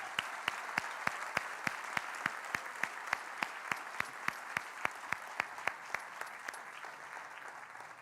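An audience applauds award winners at a university State of the 'Ville address, a steady wash of clapping with sharp regular claps near the microphone, continuing throughout with no speech.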